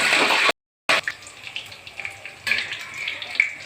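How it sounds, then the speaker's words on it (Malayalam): Dried red chillies, green chillies and curry leaves fry in hot coconut oil, giving a steady, close, bright sizzling hiss that cuts out briefly and then resumes, with no talk over it. "ഇതെല്ലാം കൂടി ഒന്ന് വറുത്തെടുക്കണം."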